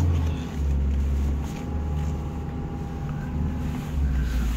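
A 1986 Alfa Romeo Spider pulls away with a low, steady engine rumble and some wind noise, its drone dipping briefly as the gears change.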